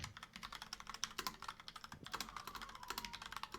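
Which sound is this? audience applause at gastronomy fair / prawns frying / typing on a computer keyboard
typing on a computer keyboard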